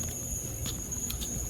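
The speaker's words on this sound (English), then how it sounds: "Cicadas. Yeah. Oh, cicadas." Cicadas chirp at night outdoors at Walt Disney World's Hollywood Studios, making a steady, high, continuous buzzing chorus with no pauses and no voices.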